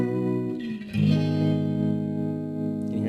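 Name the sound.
twin reverb guitar amp with tremolo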